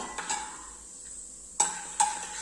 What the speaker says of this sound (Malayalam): ഇത് മൂന്നും കൂടെ നമുക്ക് നന്നായിട്ട് ഇനി ഒന്ന് മിക്സ് ചെയ്ത് കൊടുക്കാം